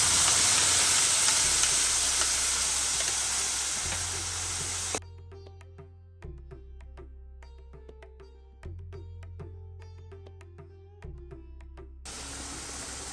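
Ground coconut paste hits a hot pan with mustard seeds and cumin for Karnataka coconut rasam, giving a loud, dense sizzle that cuts out midway, leaving sparse crackling pops, before the full hiss returns.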